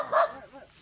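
Dogs bark close by in a single short, sharp burst, loud against an otherwise quiet outdoor setting.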